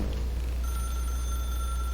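A telephone in The Stanley Parable: Ultra Deluxe rings with a steady electronic tone over a low continuous hum, moderately loud with no talk.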